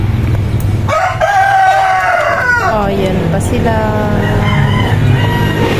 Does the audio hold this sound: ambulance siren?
no